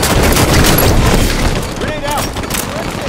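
Dense battle noise with booming gunfire from a Halo game, a constant loud roar of shots and blasts with game voices in the mix.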